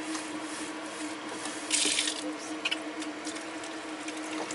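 Tap water runs steadily to rinse something off outdoors at a lake campsite in the Rocky Mountains, a continuous splashing stream with a brief louder gush partway through, close and alone without talk.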